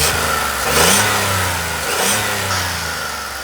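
A car engine runs close by and revs up twice in quick swells over a steady idle, sounding smooth with no rattle or knock.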